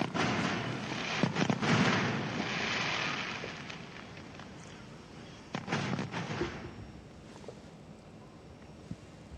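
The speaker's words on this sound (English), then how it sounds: "The inauguration concluded with spectacular fireworks display lighting up the night sky." Fireworks at a bridge inauguration sound as faint distant booms and crackling bursts over a windy, hissing background, with one cluster of blasts early and another a few seconds later.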